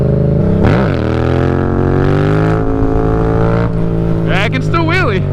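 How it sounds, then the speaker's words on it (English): A motorcycle engine revs and climbs through third gear as the bike lifts into a wheelie, loud and close with rising, swooping engine tones and wind noise toward the end. "I can still wheelie. It's in 3rd gear too"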